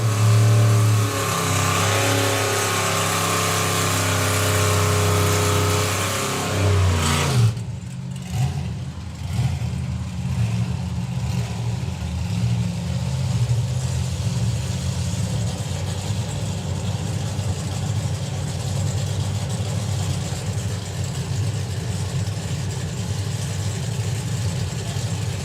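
A Slingshot dragster and a Chevy Nova rev at a nostalgia drag racing event. The engines roar loudly for several seconds, then drop abruptly to a lower, rough idling rumble that continues to the end.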